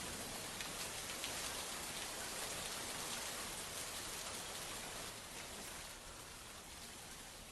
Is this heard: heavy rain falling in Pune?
yes